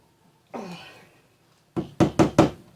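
A glass jar of sauce tapped before opening: a brief scraping sound, then four sharp, close knocks in quick succession, loud and clear with no talk over them.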